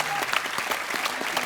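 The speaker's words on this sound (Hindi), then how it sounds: "एक बार जोरदार तालियां" A studio audience at a comedy talk show applauds steadily and loudly, a dense stream of hand claps through the whole span.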